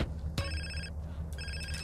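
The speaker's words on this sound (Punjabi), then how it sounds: "ਫੋਨ ਕਿਹਦਾ ਆਈ ਜਾਂਦਾ ਏ" A phone rings in the video game GTA San Andreas Definitive Edition, two bursts of bright electronic trilling separated by a short gap, fairly quiet over a low steady in-game rumble.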